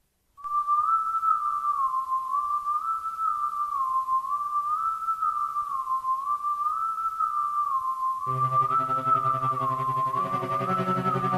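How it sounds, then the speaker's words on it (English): Eerie wavering whistle tone from level music in the video game Doom, a sustained warbling melody that plays alone, joined near the end by a layered buzzing synth chord. "Listen to that whistling."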